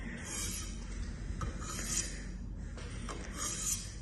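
Knife blade drawn across an abrasive stone on a fixed-angle sharpening system with light finger pressure, three rhythmic rasping strokes, close and fairly quiet, with faint clinks between passes.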